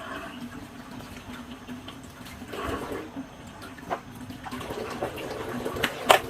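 Running water streams steadily over a sweet gourd as it is scrubbed by hand in a kitchen, a soft continuous splash with a few louder knocks near the end.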